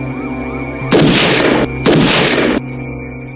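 Two heavy blasts from a pistol fired in a movie scene, each a broad roaring burst about three-quarters of a second long, loud and close, separated by a brief gap over a steady droning music bed.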